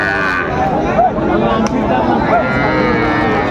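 Young bull calves low briefly amid a noisy cattle-market crowd, short calls surfacing through constant overlapping talk and background bustle.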